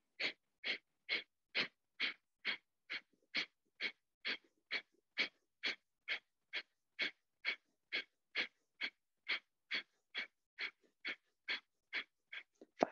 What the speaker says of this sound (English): it's just that forceful exhale through your nose